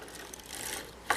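Vintage sock knitting machine being cranked while knitting a heel, a close, steady mechanical whirr with fine rapid clicking, ending in a sharper clack.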